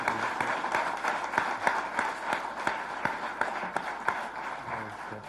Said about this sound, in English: Please, friends, please give a big round of applause.